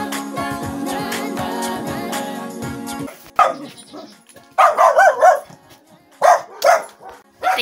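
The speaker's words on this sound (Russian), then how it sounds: "Это мама Маши. Моей собаки Машки" A small dog yips and barks in short bursts after a stretch of other sound, several sharp high barks spaced out, fairly close.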